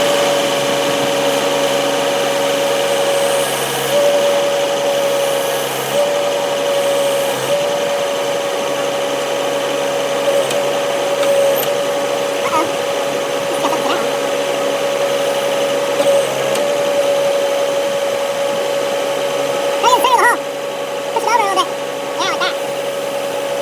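A tractor engine runs in a garden while huge king palms are planted, a constant droning hum with a steady tonal whine throughout, with brief knocks and clatter and occasional voices.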